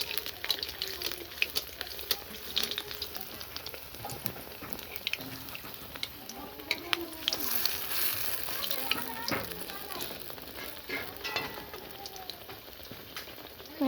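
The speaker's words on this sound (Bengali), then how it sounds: "ছেড়ে দিয়েছি, ভাজা হচ্ছে।" Pumpkin flower fritters frying in oil give a steady, soft crackling sizzle with scattered pops throughout, at a moderate level, with occasional faint kitchen movement.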